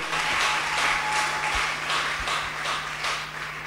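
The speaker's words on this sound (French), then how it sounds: "Acclamons très fort le roi de gloire." A church congregation claps and cheers in sustained applause, a dense wash of many hands with rhythmic swells, steady and fairly loud across the hall.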